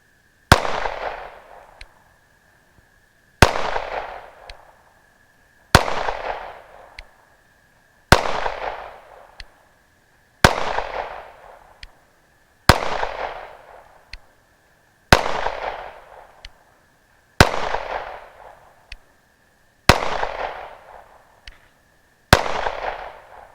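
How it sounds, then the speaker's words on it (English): Ten sharp, loud gunshots from a Smith & Wesson M&P 5.7 pistol, fired one at a time at a slow, steady pace about two to three seconds apart, each crack trailing off in a short echo. "I've never shot a center fired pistol that was as soft shooting as this."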